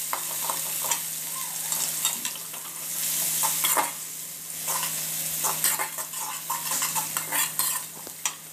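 Onion, tomato, garlic, ginger and green chilli sautéing in a pan, with bright sizzling and repeated clinks and scrapes of a spoon stirring against the metal, no voices.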